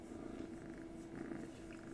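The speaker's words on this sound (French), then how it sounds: "il ronronne" A close, steady purr from a cat lying in bed rumbles continuously with a soft pulsing rhythm, low and even, with no talking over it.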